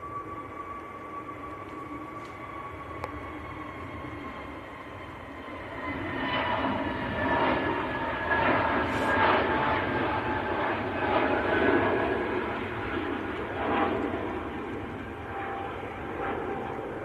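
An Airbus A321neo airliner at Manchester Airport, its engine noise a steady whine with tonal hum that swells louder partway through and stays prominent to the end, heard from a moderate distance.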